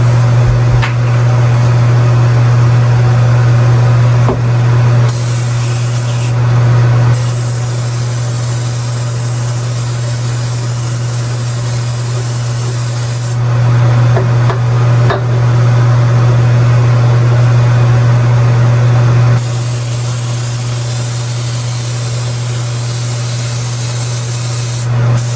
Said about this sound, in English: So just spray it over here, give it 1 coat,